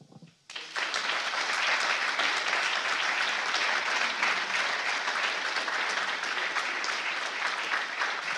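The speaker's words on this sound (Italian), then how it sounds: "Un altro applauso, perché ha veramente sintetizzato" Audience applause at a national assembly of a youth political party swells after a brief quiet start, then holds as a dense, loud, steady clapping wash for several seconds with no voices on top.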